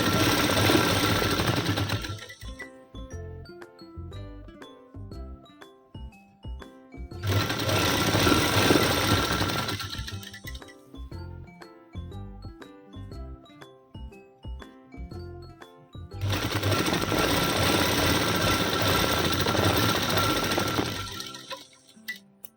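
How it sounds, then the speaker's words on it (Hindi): Sewing machine stitching a patchwork design onto a pant hem, running in three loud sustained bursts separated by pauses with lighter clicking and handling sounds in between. "अब एक सिलाई नीचे मार लेंगे और एक साइड ऊपर मार लेंगे।"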